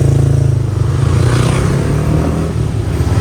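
Grab motorbike taxi pulling away on a Bangkok street, its engine a steady loud rumble close by with rising revs and clattering road noise throughout, no voices.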